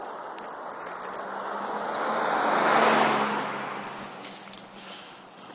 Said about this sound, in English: there's a car coming by, so I'm going to shut up for a second and let the noise die down.